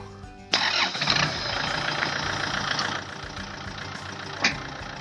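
A Kubota L4708 tractor fitted with a front dozer blade cranks and fires up abruptly, then settles into a steady diesel idle, with a brief rev bump near the end.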